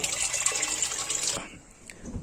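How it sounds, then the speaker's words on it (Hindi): Running tap water splashing over goat tripe and liver being washed, a steady close gush that cuts off partway, followed by faint handling noises. "अभी हम इसे वॉश कर रहे हैं।"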